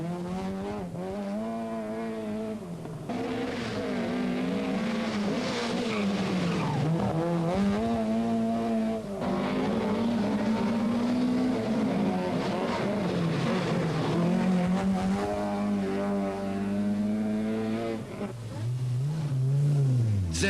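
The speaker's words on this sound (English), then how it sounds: "it's Per Eklund driving a rented Opel Ascona for the first time" A rented Opel Ascona rally car powers along a stage, its engine note rising and falling through gear changes with tire squeal, loud and close throughout.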